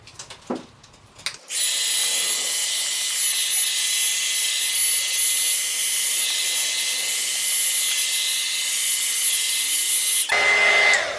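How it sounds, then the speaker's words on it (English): A craft heat dryer drying a decoupage piece blows with a steady, loud, high-pitched whoosh for several seconds after a few handling knocks, then cuts off. "I get a lot of questions about this craft dryer."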